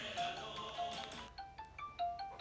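An outgoing phone call rings out through a handset or speaker, a repeating electronic ringback tone that pulses steadily at moderate volume with no talk over it.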